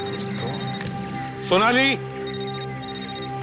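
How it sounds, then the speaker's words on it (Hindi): A mobile phone rings with a repeating electronic ringtone at moderate distance, while someone briefly shouts over it in the middle. "मोबाइल फोन भी वहीं से बज रहा है।"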